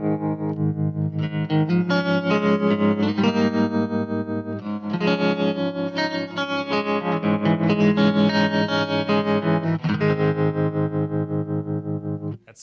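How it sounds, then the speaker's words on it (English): Fender Blackface amp tremolo pulsing a guitar played alone, a steady rhythmic throb swelling and dipping in volume across chords and notes, loud and close with a slightly gritty, effected tone. "That's a Blackface tremolo."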